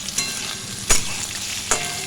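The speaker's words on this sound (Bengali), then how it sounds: "পটলগুলো ভাজা হয়ে গেলে ওই তেলের মধ্যেই আমি চিংড়ি মাছগুলোকে একে একে সব দিয়ে দিচ্ছি।" Prawns fry in hot oil in a pan after potol was fried in it, giving a loud, continuous sizzle with three sharp bursts as pieces are added or stirred, and no voices.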